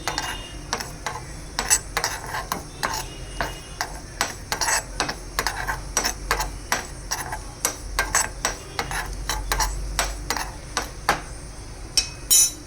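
Ingredients for a radish raita fry in a small pan while being stirred, with a quick run of sharp clinks from the spoon against the pan over a faint background sizzle.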